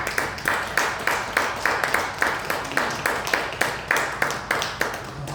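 A church congregation at a year-end Sunday worship service claps in steady unison, a loud rhythmic run of about a dozen and a half even beats filling the room with no talk over it.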